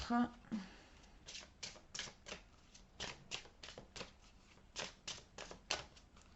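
Oracle cards being shuffled and drawn from an artist's oracle deck, a run of quick riffling flicks and taps in an uneven rhythm, close and fairly quiet, with brief speech at the start.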